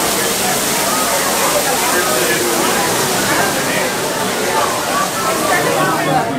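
An artificial waterfall in the Rise of the Resistance ride queue, a loud, steady broadband rush of falling water that fills the whole clip with constant spray, with speech probably mixed in underneath.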